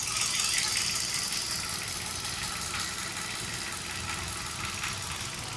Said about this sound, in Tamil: இப்போ இன்ஜின் ஸ்டார்ட் பண்ணி ஐடில் விட்டுருக்கேன்.